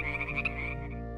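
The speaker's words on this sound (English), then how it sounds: "A distinct chorus rises from the shadows, led by frogs and toads." Frogs and toads croak on a full-moon night in a wetland, a clear tonal croak ringing out with a steady resonant chorus behind it, faint and alone.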